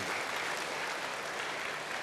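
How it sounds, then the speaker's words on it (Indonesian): A church congregation applauds during a sermon, a steady, even wash of clapping from many hands that stays at one level for the whole stretch without talk. "Beri tepuk tangan bagi dia."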